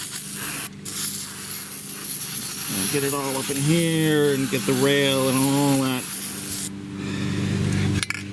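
Rustproofing oil sprayed onto a car undercarriage and frame rail, steady hissing bursts of spray alongside someone talking throughout.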